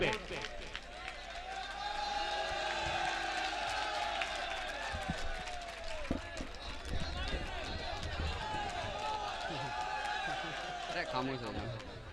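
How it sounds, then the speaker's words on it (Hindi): A large mushaira audience in Lohta, Varanasi, cheers and claps steadily to welcome a poet to the microphone, a dense roar of applause and whoops lasting throughout with no clear pauses. "तालियों से वेलकम करो तनवीर अख्तर माइक्रोफोन पे।"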